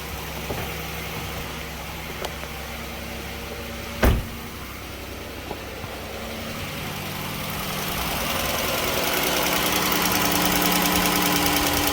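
A Chrysler engine idles close by in a steady mechanical hum, broken by one sharp knock partway through, and the running grows slightly louder toward the end with no voices.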